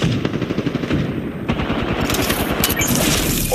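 Video game gunfire crackles in rapid automatic bursts, dense and close, with a sharp louder report partway through and sustained firing continuing to the end.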